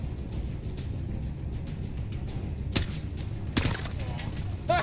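Bursts of machine gun fire in a Call of Duty: Modern Warfare battle, two sharp volleys cutting through a constant low rumble of combat noise, with a voice talking over the action.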